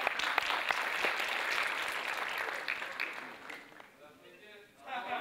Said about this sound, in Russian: Под ваши аплодисменты, друзья.